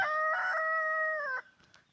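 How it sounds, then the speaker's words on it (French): A rooster crows once, loud and close, a long ringing call of over a second on a cold, still, frosty farm morning, then trails into faint clucks. "ça fait du bien d'entendre le coq."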